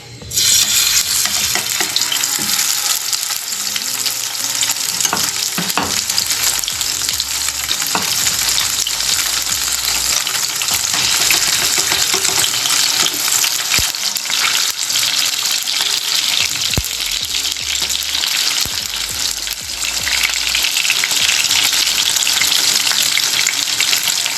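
Korean japchae fries loudly in a hot pan, a dense, continuous sizzle with stirring clatter and brief scraping sounds close by.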